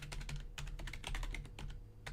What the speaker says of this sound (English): my fat fingers typing there